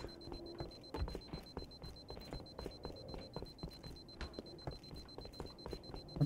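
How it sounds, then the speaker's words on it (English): In the video game Halo Reach, a low armor warning beeps as a rapid, steady series of high electronic pips that repeat without pause under busy gunfire and game effects, faint overall. "The beeping sound you get for like low armor just stays on for the entire time."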